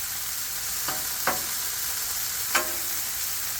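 Food sizzles on a Blackstone flat-top griddle for hibachi-style cooking, a constant close frying hiss punctuated by a few sharp spatula scrapes and taps.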